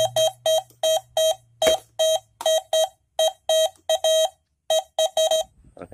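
A metal detector sounds a rapid string of short, sharp electronic beeps, roughly two per second in an uneven rhythm, loud and clear over quiet outdoor background with a faint low hum early on.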